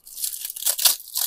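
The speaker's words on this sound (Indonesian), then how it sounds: "Jadi daun pandannya sampai kriuk kayak gini." Crispy deep-fried pandan leaves are crunched close up in a rapid series of sharp, brittle bites, loud and dry with brief gaps between them, and nobody speaks.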